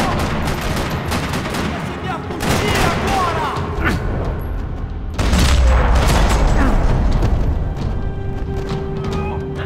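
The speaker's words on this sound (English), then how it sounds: "Another parking lot rattling with gunfire." Dense gunfire in a parking lot in the Max Payne 3 video game, with rapid overlapping shots, booming blasts and a heavier burst midway. The firing is loud and continuous, with some voices mixed in.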